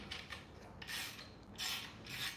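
A 7/16 wrench ratchets on a bolt in short raspy clicking strokes, three bursts close by but faint, with no talking.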